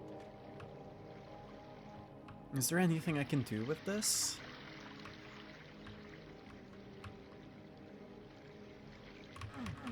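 Water in a flooded room in the video game Doom 2 runs and trickles steadily in the background, while a person talks over it and a brief louder splash rises midway.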